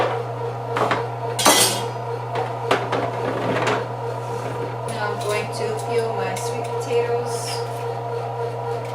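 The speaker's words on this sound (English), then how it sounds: "Transfer these into my pan over here." Roasted vegetables, including sweet potatoes, being moved into a pan in a home kitchen, with clattering utensil and cookware knocks at irregular moments over a steady low hum and intermittent talk.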